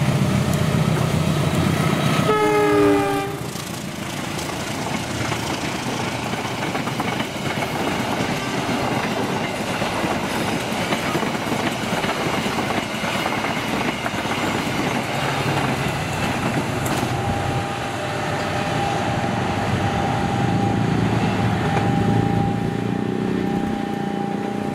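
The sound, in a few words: Bangunkarta 122C passenger train passing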